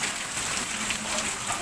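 Heavy monsoon rain pours as a steady, dense hiss, even and unbroken for a moment with no voices over it.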